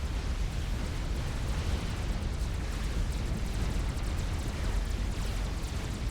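Long-range artillery fire from Fat Boy and Crab experimental units in Supreme Commander, a continuous deep rumble of distant explosions. The booms blend into a steady, heavy low roar with no clear separate hits.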